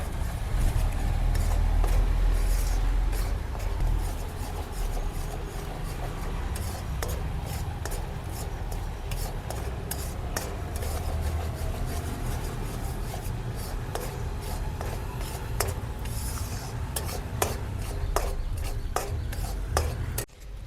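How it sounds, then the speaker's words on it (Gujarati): A spoon steadily scrapes and stirs roasted gram flour with added milk in a pan for mohanthal sweet, a continuous close rasping sound with light metallic ticks throughout. "હવે થોડું દૂધ નાખશું હવે સતત હલાવતા રહેશું"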